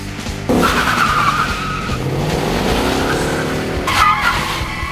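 A car engine revs hard and its tires screech in long skids, a loud intro sound effect with squeals rising and falling across the whole stretch and a renewed burst near the end.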